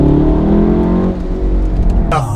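Engine of a VW Golf Mk7 R in race mode, revving loudly up and down close by, rising pitch then a sharp blip near the end, with a voice speaking briefly over it.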